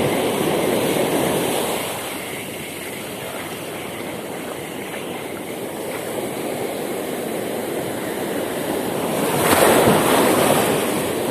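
Ocean waves break steadily on the shore during a fishing outing, a continuous loud surf wash with a swell building near the end, mixed with some wind noise.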